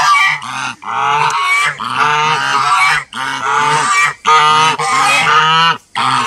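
Farm geese, newly adapting to their pen, honk loudly and continuously at close range, a flock of harsh overlapping calls with only brief pauses.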